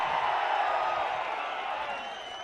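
A crowd at a political rally in Ponnur cheers and applauds in a dense, sustained wash of clapping and shouts that fades slightly toward the end.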